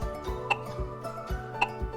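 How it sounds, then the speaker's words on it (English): An old metronome ticking at a steady, moderate pace, with crisp clicks and soft low knocks repeating about twice per second, alone and fairly close. "here's a blast from the past, my old metronome."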